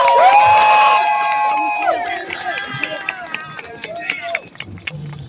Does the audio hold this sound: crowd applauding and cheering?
yes